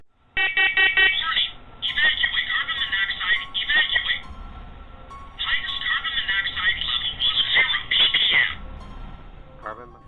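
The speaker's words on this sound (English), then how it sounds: "the faulty smoke alarm" A faulty smoke alarm goes off, sounding harsh, shrill, pulsing beeps in long bursts separated by short gaps, loud and close, with people speaking over parts of it.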